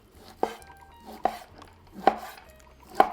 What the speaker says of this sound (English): I'll slice it just like so.